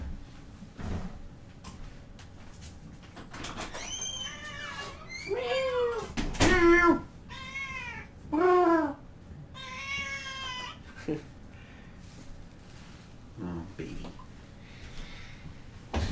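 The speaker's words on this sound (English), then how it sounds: "my cat is scratching at the door." A cat meows repeatedly in loud, drawn-out wavering cries, several close calls clustered together with quieter bumps and scuffs around them, with no talk over them.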